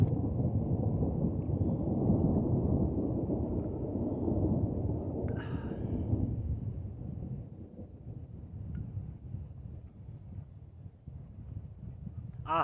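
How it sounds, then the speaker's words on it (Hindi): Thunder rolls across mountain country near a dense forest, a long deep rumble that swells, fades and keeps grumbling in the distance for several seconds, with no talking. "ऐसे ही होती है गर्जना, पहाड़ों में गरजता हुआ"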